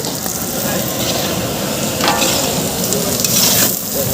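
Onion frying in a pan while making a chivda snack, a steady close sizzle with faint crackles and occasional stirring scrapes throughout.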